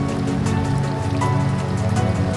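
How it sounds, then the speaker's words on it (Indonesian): Light drizzling rain falls at night on Nusa Kambangan island, a soft, even patter that goes on without a break under a faint, steady tonal hum. "sangat indah walaupun hujan gerimis,"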